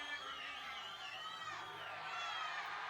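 A crowd at a bouldering World Cup semi-final in Vail cheers on an American climber, a dense sustained wash of shouts and whoops at steady volume.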